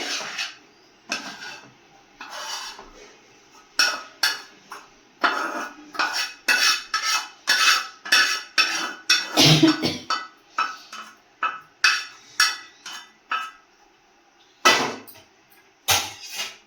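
Onion and jaggery chutney mixed in a bowl with a metal spoon, giving loud rhythmic clinks and scrapes against the bowl in bursts with short pauses, close by and without talking.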